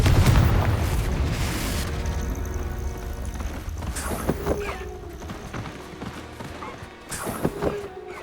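Repeated fiery explosion spells burst in a Hogwarts Legacy battle, loud booming blasts over a busy rumbling game soundscape, with sharper impacts landing near the middle and again toward the end.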